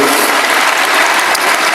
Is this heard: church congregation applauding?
yes